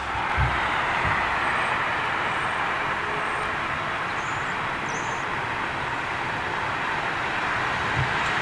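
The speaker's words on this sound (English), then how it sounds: "We've got the Etihad Dreamliner coming in, folks." An Etihad Dreamliner airliner arriving at London Heathrow gives a broad, steady jet roar at a moderate distance, with a few low thumps from wind or handling noise and no talking.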